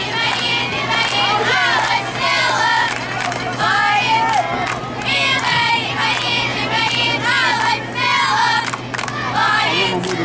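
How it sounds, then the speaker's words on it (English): A dense football-game crowd cheers and shouts without pause, with many high, excited voices that stay loud and close throughout. "Nice round of applause for our chain gang."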